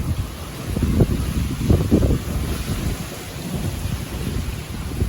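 Gusty storm wind buffets the microphone amid rumbling thunder, steady rain and fine hail, surging loudly in the first half then settling into a constant roar.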